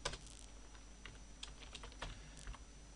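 SQL code typed on a computer keyboard, a quick, irregular run of soft key clicks, close but quiet, with no voice.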